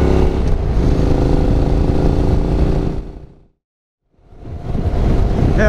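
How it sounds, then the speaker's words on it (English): Engine of a Honda NC750X motorcycle riding a road toward Barrington Tops National Park, a loud steady drone with wind rush that fades to silence briefly then returns. "Motorcycles in front"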